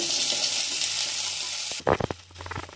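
Okra frying in a pan with a little oil gives a loud, steady close-up sizzle, then a sudden burst of clattering stirs and scrapes near the end.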